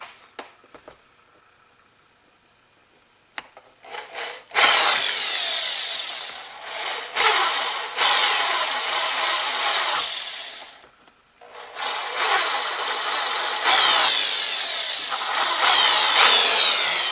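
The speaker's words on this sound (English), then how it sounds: "Drill it again." A power drill bores holes in a cap for a coolant reservoir: after quiet handling clicks, loud grinding bursts start and stop, running for several seconds at a time with brief pauses between them.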